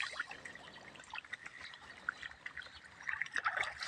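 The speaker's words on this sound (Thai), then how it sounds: "ปลากำลังเล่นน้ำเลยครับ" Fish splash and play in water inside a pond cage, making scattered light trickling and splashing sounds at low level with small irregular bursts.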